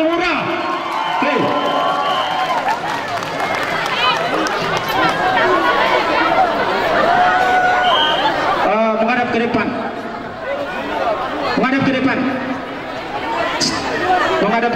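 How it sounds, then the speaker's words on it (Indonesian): Outdoor crowd at a cultural parade in Malang, with continuous lively chatter, shouts and cheering throughout, loud and close, and voices talking over the festive din. "kita berikan aplaus dulu buat kapiten kita, Kapiten Patimura"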